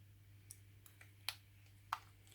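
A Samsung Galaxy Note 9 stylus digitizer connector clicks into its socket during a screen replacement, with a few faint, sharp clicks spaced apart, the last two crisper, over a low electrical hum.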